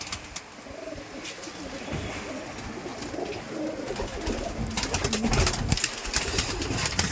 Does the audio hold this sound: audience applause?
no